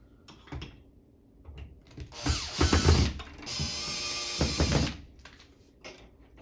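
Screws being driven to secure a ceiling fan mount to a ceiling box give a ratcheting, whirring burst of about three seconds in the middle. Faint clicks and handling noises come before and after.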